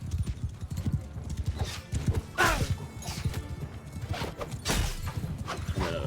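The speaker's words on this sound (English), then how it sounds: "There's another horse." Horse hooves galloping in Mount and Blade Bannerlord, rapid rhythmic clip-clop with occasional neighs and sharp crashes of battle, close and loud.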